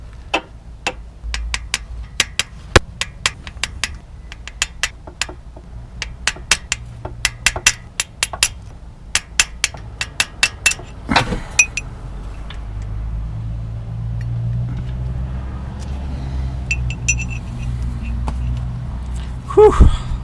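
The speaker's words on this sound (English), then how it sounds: "Go ahead and take your little teeny hammer." Small hammer tapping a chisel during coolant leak repair on a Ford Taurus, a long run of sharp, irregular metallic ticks close by, later giving way to a steadier low rumble with a few scattered taps.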